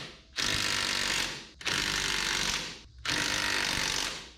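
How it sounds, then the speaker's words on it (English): Ratchet wrench tightening raised lug nuts on a car wheel during a wheel install: three long bursts of rapid, loud clicking, each stopping for a short pause. "we're gonna get our lug nuts on"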